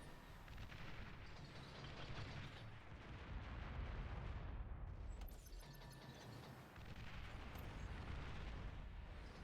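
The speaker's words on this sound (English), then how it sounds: "A lot of missile launching going on." Missile launches during a match of the real-time strategy game Beyond All Reason, a faint, dense wash of rumbling booms and whooshing blasts that keeps going throughout and dips briefly twice, with no voices.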